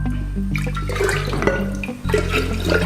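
Beetroot juice pours steadily into a container for homemade wine, a continuous liquid splash and gurgle with a brief dip near the end before the flow resumes, close and fairly loud.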